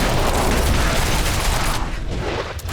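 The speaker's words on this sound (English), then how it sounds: "So that's why there's just fucking arrows everywhere." Barrage skill in Diablo IV unleashing a dense volley of arrows, a loud rapid crackling rush of many impacts for about two seconds that then thins out.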